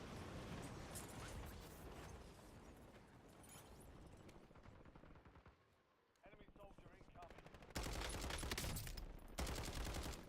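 Rapid bursts of gunfire from a scoped gun in Call of Duty Warzone, loud and dense, with a brief lull before heavier firing resumes near the end, mixed with other game sounds.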